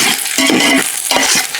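Shallots sizzle and spit in hot oil and ghee, a close, steady frying hiss with brief stirring scrapes and no talking.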